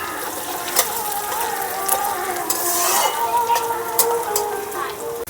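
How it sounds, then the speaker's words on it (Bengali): Onions sizzle in hot oil in a pan for a Bengali-style ghugni, with a steady frying hiss and occasional scrapes and knocks as they are stirred, close and fairly quiet. "পেঁয়াজগুলো লাল করে ভেজে নেব।"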